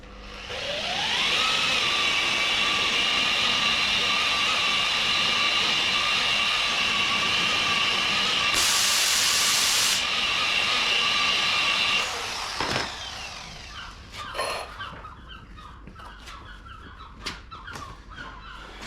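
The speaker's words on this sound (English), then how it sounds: "So we're going to polish up the area" A rotary machine polishes car bonnet paintwork, spinning up into a loud steady whine that holds for about twelve seconds, then winds down and gives way to scattered handling clicks and knocks.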